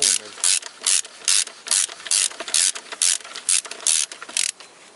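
A socket ratchet turns a bolt on a Toyota Corolla VVT-i engine during alternator work. It clicks in a steady series of about a dozen quick, crisp bursts, close and fairly loud, with no talk.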